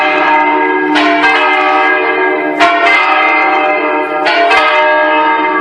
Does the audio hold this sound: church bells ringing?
yes